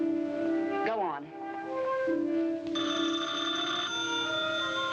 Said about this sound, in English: You, answer the phone.